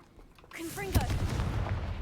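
A Confringo fire curse in Hogwarts Legacy goes off as a sharp, booming blast with a rumbling tail, preceded by rising magical whooshes.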